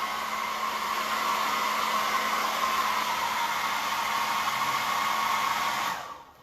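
A hair dryer blows steadily at close range to dry yellow paint, a loud continuous whooshing roar that runs unbroken for several seconds before switching off at the end.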